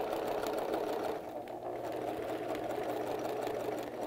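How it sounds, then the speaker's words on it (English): Sewing machine running steadily while stitching a princess seam on a garment, a continuous close motor whir at even speed with no talking. "then I'll sew up to the shoulder line. And there I can go a little bit faster"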